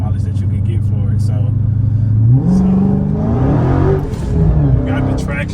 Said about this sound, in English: Hear the supercharger